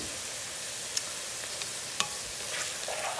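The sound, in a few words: stirring onions, carrots and celery in pot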